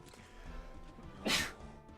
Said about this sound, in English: I'm just about to sneeze